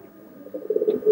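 Roller pigeons cooing close by, a soft low warbling coo that swells steadily louder toward the end, with no other sounds around it.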